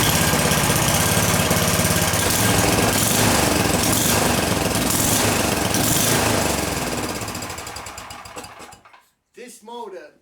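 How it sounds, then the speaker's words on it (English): A small snow blower engine runs loud and steady for about eight seconds, then cuts off abruptly. A few faint bursts of voice follow in the quiet. "I'm going to idle her down and let her idle for a couple of minutes"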